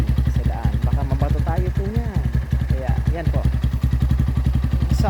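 A motorcycle fitted with a replacement muffler for a smoother, quieter note idles with even, rapid, steady exhaust pulses close by. A voice talks over the engine throughout.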